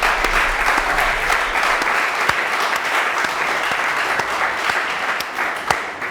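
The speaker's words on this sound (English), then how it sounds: "Can we applaud for that?" Steady, sustained audience applause fills the room at a live talk-show taping, dense clapping from a crowd continuing evenly throughout with a few sharper claps standing out.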